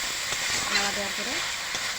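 Food sizzles steadily in a pan with salt and turmeric as it is stirred, a constant close hiss with a few light scrapes and a faint voice murmuring underneath.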